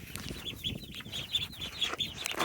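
Many small baby chicks cheep and peep in high, rapid bursts inside a small mesh enclosure, a busy overlapping chorus close by with faint scuffling underneath.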